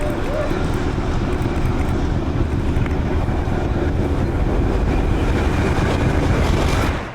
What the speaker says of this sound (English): the train still passes through with ease